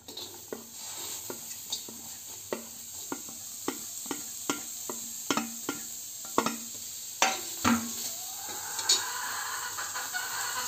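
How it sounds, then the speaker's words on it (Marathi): Onion and fresh coconut roast in a pan for misal, a soft steady sizzle broken by regular, close scraping strokes of a spatula stirring the mixture. "कांदा आणि खोबरा भाजून घ्यायचा, लाल करून घ्यायचा थोडाफार"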